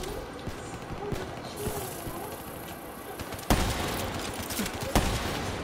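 Call of Duty: Black Ops III gunfire comes in bursts of sharp shots and rapid automatic fire, with mechanical clicks in between and louder volleys in the second half.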